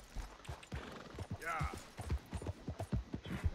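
Horse hooves clip-clopping in the Red Dead Redemption 2 video game, a close, uneven series of thuds with a brief whinny partway through, while someone talks over them.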